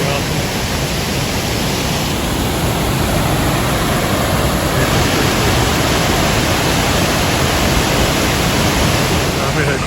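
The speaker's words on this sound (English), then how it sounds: "there's another waterfall way down there in the back" Waterfall at Maramec Springs, Missouri: a steady, dense roar of falling water, loud and unbroken throughout with no pauses.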